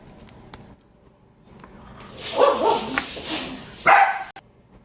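A dog barks excitedly in a home kitchen, a few bursts in the middle distance, mostly alone with soft background noise.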